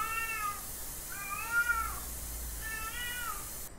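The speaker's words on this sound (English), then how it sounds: "Oh! It's a cat! You're so black!" A cat meows in the horror video game Erie, three separate drawn-out meows spaced about a second apart, clear and moderately close over a steady low ambient hum.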